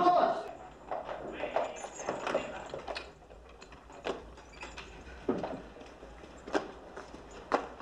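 Horse hooves clip-clop in a 1979 period film, sharp uneven clacks spaced across several seconds amid faint background noise.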